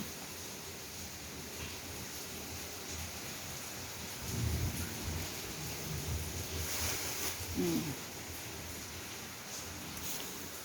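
Steady rain hisses throughout a storm, with a low thunder rumble swelling in the middle and a fainter one later, all fairly quiet and with no one talking.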